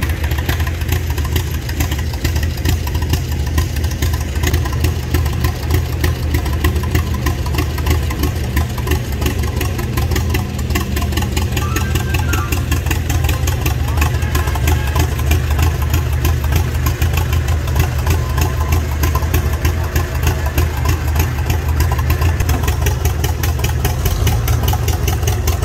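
An antique tractor engine, a John Deere 560, runs steadily at a tractor show, a loud, close, continuous low rumble with a constant chugging pulse throughout and no talk over it.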